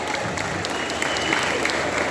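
Convention crowd at a horror fan Q&A applauding and cheering, a steady, dense wash of clapping that holds at full strength across the whole moment with no one speaking over it.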